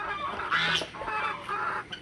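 Hens clucking in short bursts, a few overlapping calls close by against a steady farmyard background.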